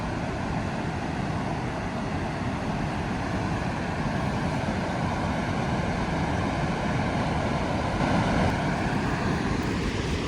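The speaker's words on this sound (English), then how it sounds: "a big waterfall." Roar of Dettifoss, Europe's biggest waterfall, a steady, dense broadband rush that holds constant and loud throughout with no breaks or voices.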